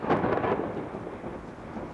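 A thunderstorm during crane rigging work, with a deep rumble of thunder rolling through rain noise, loudest at the start and fading slowly across the clip.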